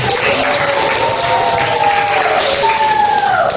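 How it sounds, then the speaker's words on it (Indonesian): Pupils in a school classroom clap together loudly and steadily for a few seconds, with a voice rising over the clapping partway through. "Beri tepuk tangan"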